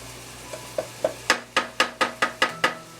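Chopped vegetables for dirty rice are stirred in a pot, about nine sharp scraping strokes in a quick, even rhythm, close and clear with no talk.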